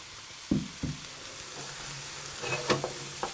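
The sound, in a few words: stir frying broccoli and mangetout in pan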